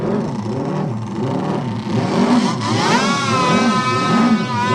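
A racing motorcycle ridden by Dutchman Jos Schergers laps the Isle of Man mountain circuit, its engine howling loud and close, revving up and down through gear changes before rising into a steady high-pitched scream.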